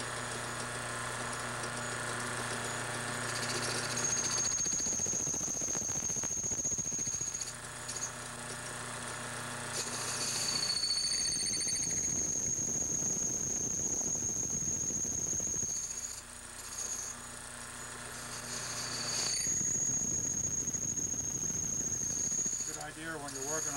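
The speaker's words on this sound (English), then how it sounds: "when you're working on a lathe, put a pair of safety glasses on to keep the chips from going in your eyes" A small lathe turns a brass clock barrel as it is cut down, a steady motor hum with a high whine during cutting passes that stop and start in several stretches, heard under someone talking.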